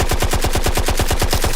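Rapid automatic gunfire rattles off as a tight, even burst of about a dozen sharp shots in under two seconds, loud and close.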